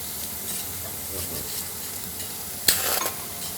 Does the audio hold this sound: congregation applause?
no